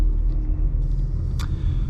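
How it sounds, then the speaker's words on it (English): A 2004 Acura EL car idles with a steady low engine rumble, close and continuous, with a brief faint click near the end as it gets ready to drive off. "Let's take this car for a little spin and see how it drives."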